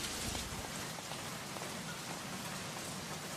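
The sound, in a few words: rain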